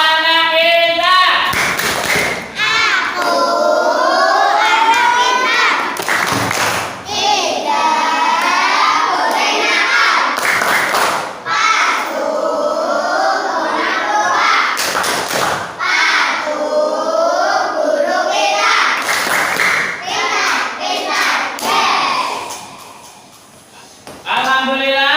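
Children in a classroom chanting in unison while clapping hands in a rhythmic pattern, repeated bursts of sharp claps between sung phrases, loud and close throughout.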